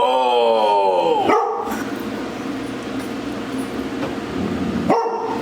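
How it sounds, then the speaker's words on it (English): A dog barks and whines loudly up close, with a drawn-out vocal cry at the start and sharp yelps later, over steady background noise. "that dog's face is so big"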